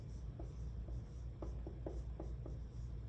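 A pencil writes a sentence by hand on paper in a second grade lesson, giving soft, scratchy strokes with short pauses between letters. The strokes are close and quiet, with no speech.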